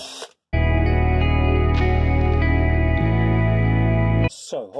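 Drill boring holes with a 5mm bit into wood for a scroll saw blade, a loud steady motor whine that starts abruptly, holds for about four seconds with a pitch drop midway, then cuts off, with brief noises before and after.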